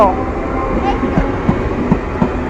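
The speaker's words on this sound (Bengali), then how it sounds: "যা ট্রেন চলে গেল তো" A train rumbles past close by, wheels clacking in a regular rhythm over the tracks, loud and continuous.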